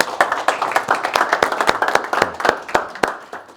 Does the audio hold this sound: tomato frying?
no